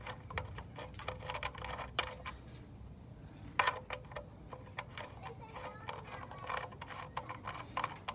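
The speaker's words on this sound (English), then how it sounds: "just tighten it with the socket" Socket ratchet tightening a sump plug during an oil change on a Ford Territory with the Barra engine, faint irregular clicking and metallic taps under low background noise.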